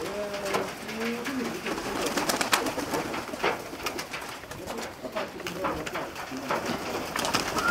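Show pigeons at a club competition giving soft cooing calls near the start and again later, mixed with wingbeats, clapping and voices in an outdoor crowd.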